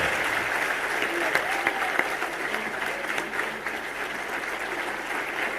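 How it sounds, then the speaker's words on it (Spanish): Loud, sustained applause from a large audience at a political rally in Corrientes, Argentina, for President Milei, a dense continuous roar of clapping with a few sharper claps standing out. "les pido un aplauso muy fuerte para el presidente de la Nación"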